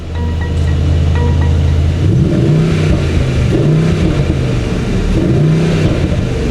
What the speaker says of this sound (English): All right, I'm gonna rev this thing for you guys.